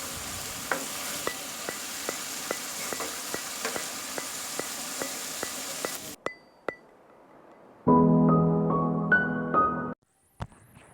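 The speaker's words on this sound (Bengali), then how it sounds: "এগুলো এখন আমি একটু ভালো করে ভেজে নিব।" Carrots and peas frying in a pan for Chinese vegetable fried rice, with a steady close sizzle and a regular ticking of a spatula scraping and tapping the pan, then a short pause and a louder burst of sizzling.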